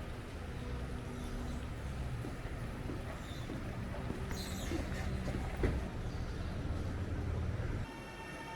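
A train ride in Kuala Lumpur, a steady rumbling interior drone with a brief horn-like toot and a sharp knock midway, ending with a drop in noise near the close.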